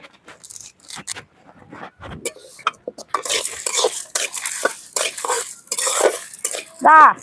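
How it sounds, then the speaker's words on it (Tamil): Pepper, cumin and asafoetida dry-roast in a pan with irregular scraping and stirring from a utensil. Bursts of scratchy clatter build in the second half, ending with a sharp metallic clink. "இப்படி நல்லா பொன்னரமா வறுத்துக்கணும்"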